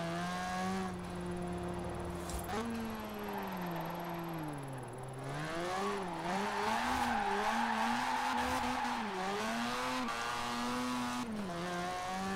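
A Mazda in Forza Horizon 4 drifts: the engine drones and shifts pitch continuously while tires squeal and skid in long slides, steady and fairly loud.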